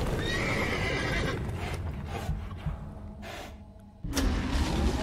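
A horse in the Witcher 3 video game whinnies and its hooves clop, with creaking mechanical game effects layered over the top, all fairly close and moderately loud.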